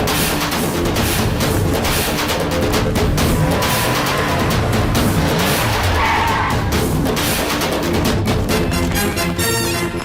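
A car skids to a stop with loud, sustained tire squeal and scraping rumble over engine noise, harsh and close throughout.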